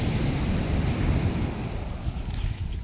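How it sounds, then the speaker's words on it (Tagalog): Ocean waves washing onto the shore at the seaside, a continuous rushing surf mixed with strong wind buffeting the microphone, steady and fairly loud with no voices. "Uy, may karagatan."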